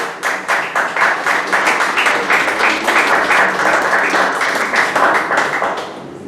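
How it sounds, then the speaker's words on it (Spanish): A seated audience at a book presentation gives a steady round of clapping for a guest, dense and lively from start to finish with no talking over it. "Un aplauso, por favor, para Agustín."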